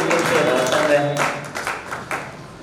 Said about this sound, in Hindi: रोशनलाल जी के लिए एक बार फिर से जोरदार तालियां